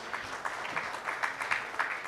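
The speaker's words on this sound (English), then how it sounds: "Can we have a round of applause for all the panelists?" Applause for the panelists at a conference plenary session, a fairly soft, steady patter of many hands clapping with distinct claps standing out, heard at some distance.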